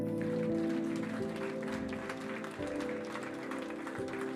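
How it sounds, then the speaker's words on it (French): A church congregation applauds at a fairly low level, a soft blur of clapping beneath a sustained musical tone from instruments playing through the service. "Alors, est-ce qu'on ne veut pas applaudir Jésus?"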